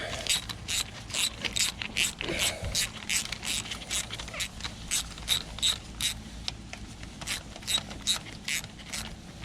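A ratchet wrench snugs a 10 mm nut back onto a Kubota tractor fuel filter, giving a steady run of quick, close, crisp clicks that continue through the whole stretch with no talk.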